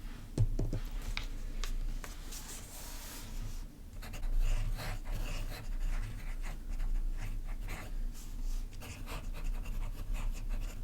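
Fountain pen with a broad nib scratching across paper in a quiet room, soft continuous strokes broken by brief pauses and light taps.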